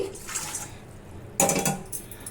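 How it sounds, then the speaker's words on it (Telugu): Hot water is poured into chapati flour with a salt pinch, making two short splashing bursts close by, separated by a quiet pause. "చపాతీలు సాఫ్ట్గా రావాలంటే వాటిలోకి కొంచెం వేడి నీళ్ళు అయితే వేసుకోవాలి"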